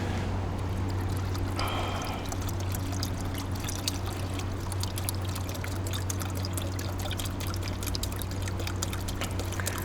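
Water is poured from a bottle into a container, a continuous trickling splash running throughout under a low steady hum, with a brighter burst of gurgling early on.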